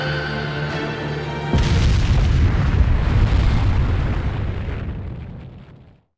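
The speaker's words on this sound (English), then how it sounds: "An explosion!" A huge explosion erupts in an anime fight, a sudden deep roaring boom that stays loud and dense for several seconds before fading away to silence.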